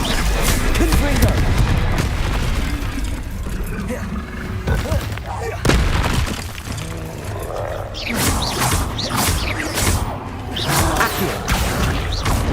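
Confringo fire spell blasts in Hogwarts Legacy, a series of booming, whooshing bursts amid a dense, loud stream of combat effects, with sharp strikes near the middle and a flurry of impacts toward the end.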